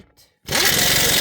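Impact gun tightening bolts on a Toyota Camry front wheel knuckle: a brief quiet moment, then a loud, sustained buzzing rattle of the air tool starting abruptly and running to the end.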